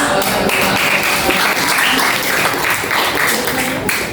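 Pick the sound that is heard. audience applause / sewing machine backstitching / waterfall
audience applause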